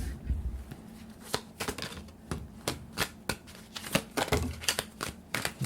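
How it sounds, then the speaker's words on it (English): Tarot cards are shuffled and pulled from the deck during a reading, giving close, crisp riffling bursts and flicks in an uneven rhythm, with no voices. "Now let's pull some more cards."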